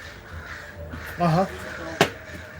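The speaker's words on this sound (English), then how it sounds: "Mama Crow, look at all my crows came around." A single crow's harsh caw sounds at a Humboldt County outdoor spot, followed by a sharp click, with low background noise and a brief spoken murmur.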